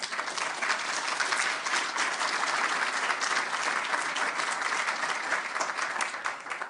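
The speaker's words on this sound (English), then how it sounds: "So please give yourselves a round of applause" An audience at the 2016 Order of New Brunswick award ceremony claps in a sustained, even round of applause, moderately loud and unbroken, with no talking over it.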